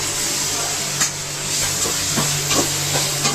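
Ginger and native tomatoes sautéing in a pan for a chicken biryani make a constant hiss, broken by several quick scrapes of a stirring spoon.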